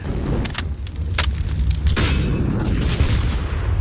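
Molotov grenade thrown in CS:GO on the Vertigo map, a deep booming burst followed by a sustained roaring, crackling fire wash that stays loud and dense throughout.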